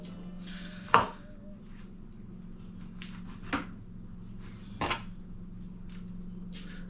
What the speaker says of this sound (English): So you use the knife to push up against the bone, and then you come down slowly.